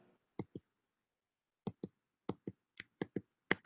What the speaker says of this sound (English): we seem to be getting some typing noises and such